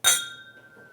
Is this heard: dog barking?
no